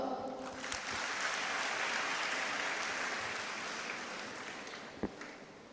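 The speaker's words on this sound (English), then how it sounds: "Applause for her." An audience claps for a female student at an orientation event of an allied health sciences school. The applause is dense and steady at moderate volume, then thins toward the end, with one sharp clap standing out near the close.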